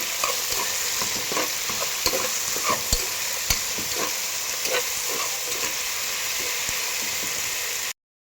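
Tomato and ginger garlic paste stirred in a hot pan, a steady close sizzle of frying throughout with scraping stirs, then an abrupt cut to silence near the end.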